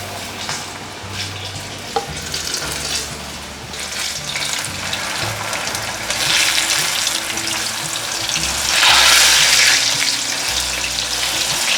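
Celery and king oyster mushroom balls deep-fry in hot oil with a loud, continuous sizzle and bubbling, swelling at times as they are nudged and turned.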